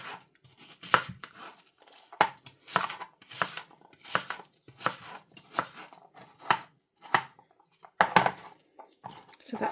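A knife slicing an apple on a cutting board, heard as a string of crisp, close chopping knocks with uneven rhythm and scattered softer scrapes between cuts, without talking.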